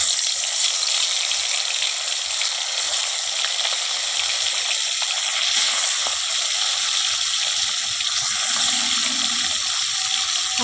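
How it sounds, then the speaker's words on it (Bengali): Bhola fish frying in hot oil, a steady, dense sizzle with a watery hiss that stays loud and even throughout, close by with no voices. "তো চলো মাছগুলো ভেজে নিই"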